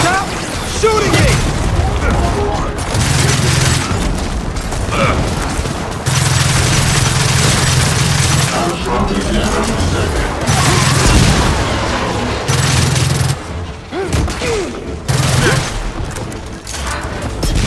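Heavy gunfire and explosions fill a Gears of War 4 campaign heist battle, with loud rapid bursts and booms that stop and restart in waves, and voices shouting over the fight.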